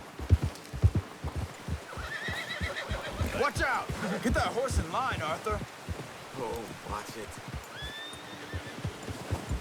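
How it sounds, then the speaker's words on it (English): Horse whinnies and a steady clip-clop of hooves in the Red Dead Redemption 2 game, up close and mixed with voices talking over the galloping rhythm. "Get that horse in line, Arthur."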